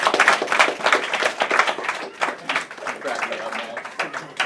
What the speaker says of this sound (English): We're going to go ahead and bring him up with a round of applause.